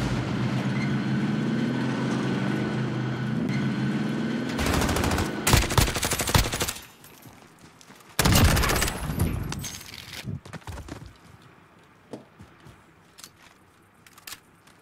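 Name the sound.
gunfire in the video game Warzone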